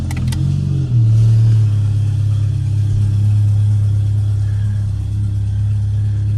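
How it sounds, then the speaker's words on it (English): Volkswagen Passat 1.8T with a turbo and 3-inch CTS downpipe with cat, not fully warm, idling loudly and close, a steady deep drone after a brief rev near the start. "You can hear the turbo sound."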